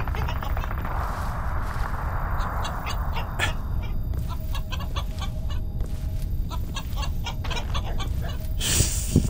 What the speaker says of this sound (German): Das Huhn war so verlockend.